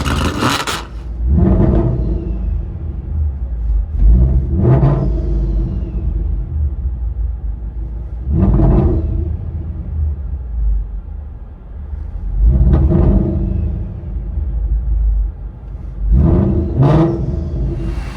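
A loud supercharged V8 Mustang GT 5.0L engine with headers and Corsa cat-back exhaust revs repeatedly in sharp bursts, each rising roar dropping back to a deep rumbling idle, with about five revs in all.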